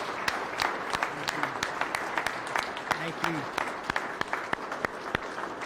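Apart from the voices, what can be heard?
audience applause at news conference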